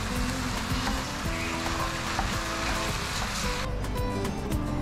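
Minced meat sizzling steadily in a hot pan, a dense continuous frying hiss with faint stirring scrapes, close and fairly loud with no talking.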